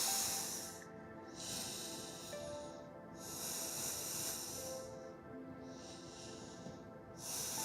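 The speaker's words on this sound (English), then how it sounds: "Taking 6 breaths here." Deep, slow breaths during a yoga pose for splits, each long hissing inhale and exhale rising and falling in a steady rhythm, close and alone with no talk.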